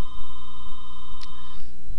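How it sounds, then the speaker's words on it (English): An indoor telephone rings with a steady electronic tone over a low background hum, one sustained ring that cuts off before the end, no talking. "That's the phone ringing right then."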